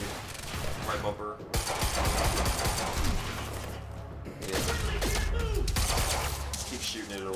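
Sustained gunfire from the video game Quantum Break: dense, continuous bursts of shooting with mechanical clatter, loud and unbroken, with voices faintly mixed under the action.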